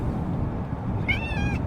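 A cat lets out a single drawn-out meow near the end, clear above a steady, noisy room background.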